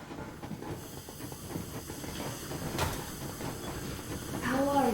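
A steam train pushes ahead at full speed in a video game, with a steady rushing hiss and rolling rumble, faint rhythmic clatter underneath, and a voice speaking over it near the end.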